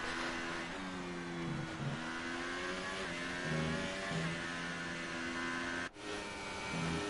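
An F1 car's engine heard on board during a formation lap at the Mexican Grand Prix in a racing video game, a steady droning whine that rises and falls in pitch with gear changes, with one sharp dip near the end.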